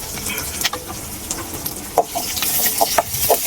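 Garlic, curry leaves and dried red chilies sautéing in a hot pan, with a steady broadband sizzle and frequent scraping stirs from a spatula, close and fairly loud, with no voices.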